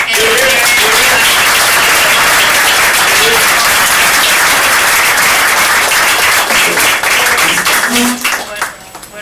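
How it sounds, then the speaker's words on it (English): A large audience applauds panelists at a community forum on police accountability, dense steady clapping filling the room and tapering off near the end, with a few voices faintly under it. "let's give another round of applause to our panelists"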